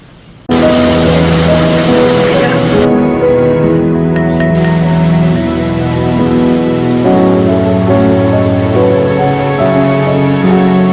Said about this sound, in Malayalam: ഇപ്പൊ നല്ല രീതിയിൽ മഴ പെയ്തു